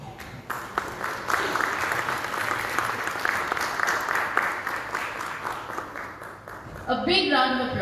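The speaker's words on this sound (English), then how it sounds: "A big round of applause for the newly notified agency." Applause from an audience at a launch event for a mineral exploration licence auction in Goa, a steady sustained clapping that fills most of the clip, with brief speech heard near the end.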